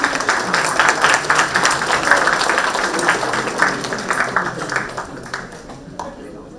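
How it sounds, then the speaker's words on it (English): Audience applause at a sustainable architecture and climate summit: steady, moderately loud clapping with voices mixed in, tapering off toward the end. "A round of applause, please."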